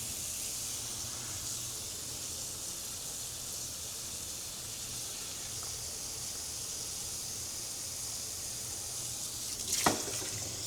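Tap water runs steadily into a pan for homemade bone broth, a constant faint hiss of flowing water throughout with a brief louder splash or clunk near the end.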